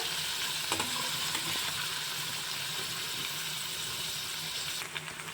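Cubes of paneer roast in hot ghee in a pan, giving off a steady, even sizzle and crackle at close range throughout, with no voices.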